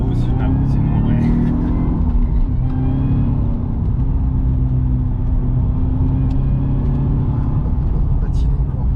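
A Cadillac CTS-V engine is heard as its rear wheels spin, a loud, sustained low rumble and drone that holds steady throughout, heard from inside the car.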